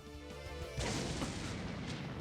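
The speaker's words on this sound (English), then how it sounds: "A series of explosions and gunshots echoed outside" Explosions and gunshots from the visual novel Dies irae: a sustained, loud burst of blasts and gunfire starts abruptly about a third of the way in and keeps rumbling to the end, with no talk over it.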